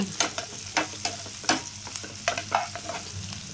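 Onions fry in a pan for a quail pepper fry, a loud steady sizzle broken by repeated rhythmic scrapes and knocks of a spoon stirring against the pan.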